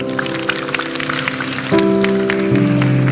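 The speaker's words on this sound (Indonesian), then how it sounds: "Berikan tepuk tangan untuk Tuhan" Scattered clapping from a church congregation during a sermon, with sustained music tones entering partway through, the applause continuing underneath.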